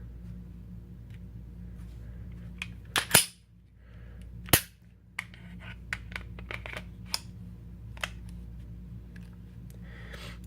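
A Glock G27 Gen 4 subcompact pistol is handled for a safety check: a couple of sharp metallic clacks of the slide racking open, followed by lighter clicks and taps against a low background hum.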